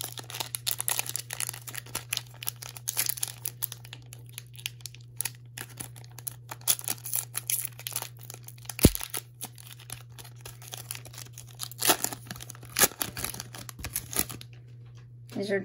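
Cello-wrapped jumbo pack of 2020 Panini Prizm Draft baseball cards being torn open by hand, with close crinkling and ripping of plastic wrap over a steady low hum, and a voice speaking intermittently.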